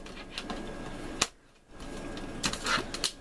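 A paper cutter slices through a card for DIY Memorydex cards, a sharp single chop partway through, followed by a short quiet gap and then some light clicks and handling noise.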